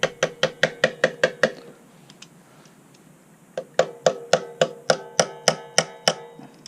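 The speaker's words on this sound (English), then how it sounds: "rubber handled pliers for a little hammer action" Sharp metallic taps of rubber-handled pliers on a titanium peg spring of a Surron or Talaria e-bike, in two quick, evenly spaced bursts of about eight strikes each, separated by a short quiet pause.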